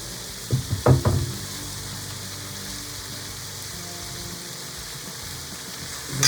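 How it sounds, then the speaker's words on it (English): Mushrooms frying in olive oil in a pan: a steady, even sizzle that carries through the whole stretch, with a few brief clunks near the start and again at the end. "3 tablespoons olive oil on the fry pan. Now we're gonna put the mushrooms inside."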